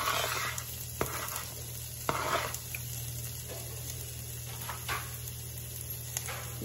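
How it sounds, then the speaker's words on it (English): Onions sizzle gently in melted butter in a pan, a soft, steady crackle heard fairly close, with a few sharp clicks and light scrapes from stirring. "So now that the butter is melted, you wanna add your onions."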